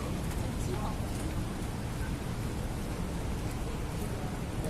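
Heavy rain falling in Hong Kong, a dense, steady roar of downpour filling the whole stretch without letup, loud and close with no voices over it.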